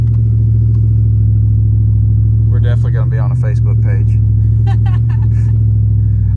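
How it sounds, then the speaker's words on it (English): A loud, low truck engine drone rumbles continuously up close as its tires slip on snow, with a person talking over it partway through. "the black, loud truck that was slipping tires"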